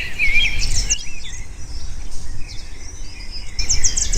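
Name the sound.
cockatoo calling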